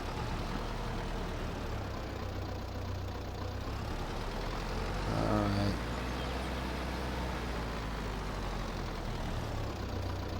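A small tractor engine in the Farming Simulator 22 game idles with a steady low rumble throughout, rising briefly mid-clip before settling back to its constant drone.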